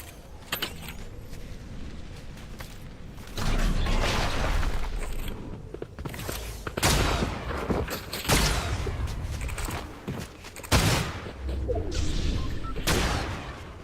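Gunfire in the battle royale game Fortnite, several loud bursts of shots and impacts spread across the clip at irregular intervals, with quieter game noise between them.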